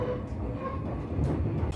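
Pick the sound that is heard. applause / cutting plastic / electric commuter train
electric commuter train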